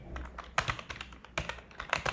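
Close computer keyboard typing, a quick run of distinct key clicks with a few sharper louder strikes, crisp and alone without talking.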